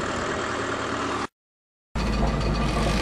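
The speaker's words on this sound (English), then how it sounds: "That's the quietest running 427 in the land." A 427 engine in a dump truck runs with a steady, rough mechanical drone. The sound cuts out completely for a moment and then resumes at the same level.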